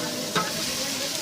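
Fresh curry leaves drop into hot oil and fry with a soft, steady sizzle, marked by a brief crackling burst near the start.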